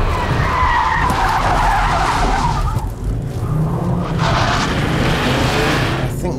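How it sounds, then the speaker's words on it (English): A car skids loudly through a handbrake turn with a sustained tyre scrub and squeal close by. The rough roar of the slide dips briefly midway, then surges again. "This is called a handbrake turn."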